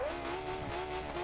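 A small all-wheel-drive RC car motor whining at high revs, a thin steady tone holding briefly with a slight dip, loud and close with no speech.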